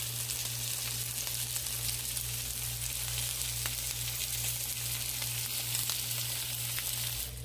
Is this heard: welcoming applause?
no